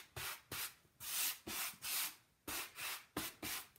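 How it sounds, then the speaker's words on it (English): Sandpaper rubs back and forth across a painted wooden board in about eight close, rhythmic strokes, each a soft, gritty scrape separated by brief pauses. "So I'm just giving it a little sand, break up that surface."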